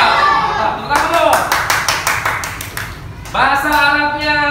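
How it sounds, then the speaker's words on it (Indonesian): Children in a primary school classroom clap in a quick rhythmic pattern of sharp, close claps, framed by a teacher talking before and after. "Tepuk tangan dulu."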